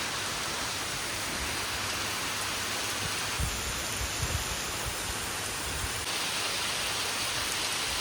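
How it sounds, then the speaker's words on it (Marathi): Steady, even hiss of rain falling continuously, with a few faint low thumps partway through. "पण पाऊस बघतो"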